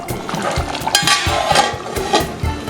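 A metal spoon stirs korameenu (murrel fish) curry in a pot, giving a steady run of scraping knocks and soft bubbling at close range with no talking.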